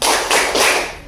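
A classroom of students claps together in a quick rhythmic focus-clap pattern, three dense bursts of many hands close by within about a second.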